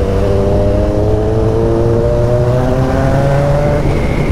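Kawasaki ZX-14 motorcycle from 2011 with a full Atalla 2.5-inch stainless steel exhaust pulls hard under acceleration, a loud, continuous roar whose engine tones climb steadily through a long gear, close and alone.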